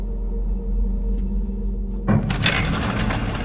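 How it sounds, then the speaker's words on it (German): The lock on a farm machine shed is forced open: a low steady hum, then a sudden loud crack followed by rough scraping and rattling that continue to the end. "bricht er kurzerhand das Schloss zum Maschinenhäuschen auf"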